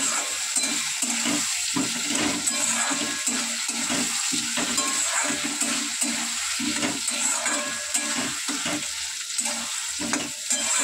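Potatoes added to softened, salted tomatoes sizzle and fry steadily in a pan, a loud continuous crackle with occasional stirring, no talking.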